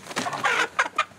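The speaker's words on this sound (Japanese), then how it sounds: "自宅に帰ると庭で待っていたのは鶏。" Nagoya Cochin chickens clucking in a home garden, a run of short, close, uneven clucks and squawks with no talking.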